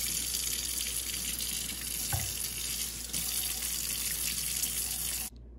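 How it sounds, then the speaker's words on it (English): Tap water runs steadily from a faucet into a sink while a minor cut is washed with soap, a continuous close hiss with a brief splash near the middle, stopping abruptly at the end. "I wash the cut with soap and water."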